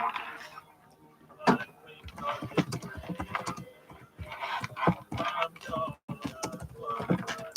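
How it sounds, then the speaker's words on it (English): Rapid, uneven keystrokes on a computer keyboard, close by, during a relaxed tarot reading chat, with bursts of clicks rising and falling over about seven seconds. "I'm typing it instead of asking you"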